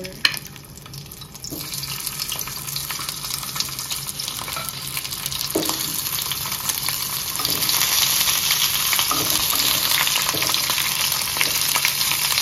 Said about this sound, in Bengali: ভাজা মাছ ওটা কড়কড়ে করে ভাজবে।